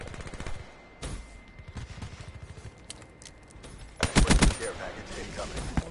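Rapid bursts of gunfire crackle through a shooter video game, with scattered shots early on and a louder, denser volley near the end, heard in the middle distance.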